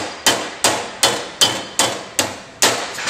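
A hammer strikes a hole punch set in a handle to drive out a roll pin: seven sharp, evenly spaced metallic blows, close and loud, each ringing off briefly.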